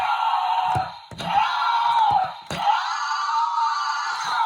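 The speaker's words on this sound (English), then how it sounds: "You can do any amount of scream you want," A Mattel Jurassic World baby dinosaur toy lets out a loud, sustained electronic scream, repeated in several long wailing bursts separated by brief mechanical clicks, close and alone without talk.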